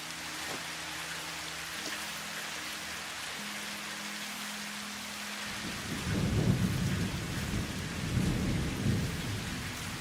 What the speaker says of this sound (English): we've got a thunderstorm going on. Lightning and that going off as well